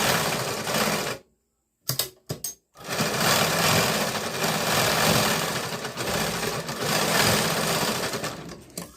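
Close, loud sewing machine stitching lining onto the fabric of a katori blouse, running in a steady whir, stopping briefly twice near the start and then continuing at an even pace.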